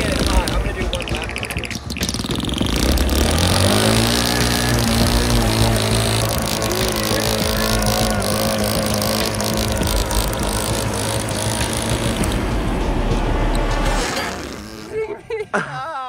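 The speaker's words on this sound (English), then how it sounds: "bike engine is gonna work completely underwater" A bike engine powering a mini jeep built to drive underwater runs loudly and continuously with a revving drone, then fades near the end.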